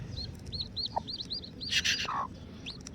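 Newly hatching Kadaknath chicks peep in a thin, repeated series of high chirps, steady and close, with a brief louder burst of rustling or handling noise midway.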